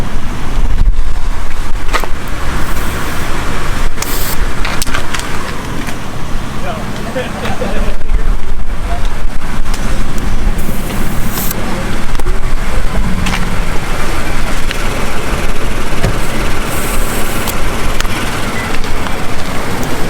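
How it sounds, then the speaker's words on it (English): Strong, cold winter wind roars and buffets continuously outdoors at a snowy overlanding campsite, a loud, dense rush that persists throughout. "It's really windy out."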